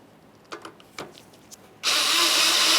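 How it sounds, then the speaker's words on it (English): A power tool drives a headlight mounting screw on a 2001-2005 Ford Explorer Sport Trac: a few light clicks and taps, then a sudden loud, sustained whir as the driver runs close by. "Let's take that mounting screw, we'll start it in there and snug it up."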